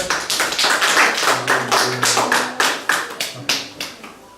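A church congregation claps together in a steady, even rhythm, the sharp hand claps close and regular and carrying over a faint tonal background, with no talking.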